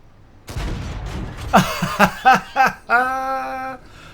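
A single deep tank cannon boom from the console video game World of Tanks is followed by bursts of laughter and a drawn-out vocal sound.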